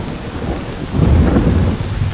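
Heavy rain pours down with rolling thunder on a steep slope at Lei Yue Mun, Hong Kong: a dense, loud, continuous roar with a low rumble swelling midway, with no talk over it.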